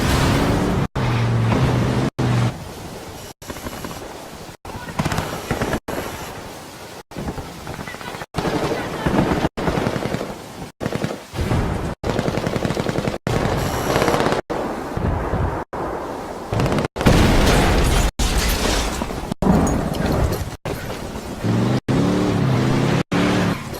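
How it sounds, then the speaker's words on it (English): Gunfight between rebels and Santa Blanca cartel fighters in Ghost Recon Wildlands, with a C4 charge detonated at the camp; sharp repeated gunshot cracks and bursts pile up in quick succession, loud and close, over steady background noise. "This camp is now erupting into a full gunfight between the rebels and the Santa Blanca. And to provide further disruption, we blow that C4 we placed earlier."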